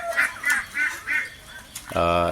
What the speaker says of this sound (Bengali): 27 পিস হাঁস আছে।